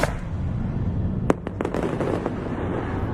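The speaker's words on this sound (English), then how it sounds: "Fireworks lighting up the night sky here at the jewel of the city that is Marina Bay Floating Platform" Fireworks explode over the Marina Bay Floating Platform during Singapore's 2022 National Day Parade, with several sharp cracks and pops clustered mid-clip over a continuous low rumble of crowd and ambience.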